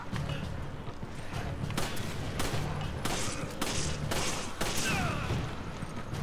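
Gunfire in the video game Resident Evil 5 on Xbox One, a series of sharp shots, some in quick bursts, popping at moderate loudness over a constant background rumble, with no talk.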